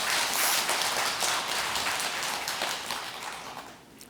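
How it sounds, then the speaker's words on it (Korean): Audience applause at a Buddhist dharma assembly, a dense, steady wash of many hands clapping that fades slightly toward the end. "여긴 박수 한번 쳐야 되는데."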